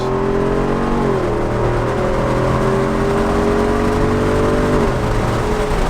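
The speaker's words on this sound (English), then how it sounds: "let's go ahead and get on the highway, and then I'll give it a little bit of gas right here" A 2024 Jeep Wrangler Rubicon 392 engine steadily accelerating on a highway, heard from inside the cabin, its droning pitch climbing in stages over constant road and wind noise.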